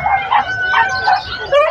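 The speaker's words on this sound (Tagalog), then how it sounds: "Yung mga tuta." Puppies for sale at a crowded tiangge market in Bocaue bark close by in a quick run of several high, short yips and whimpers, with people talking.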